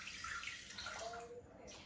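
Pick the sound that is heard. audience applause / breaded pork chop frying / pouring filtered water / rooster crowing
pouring filtered water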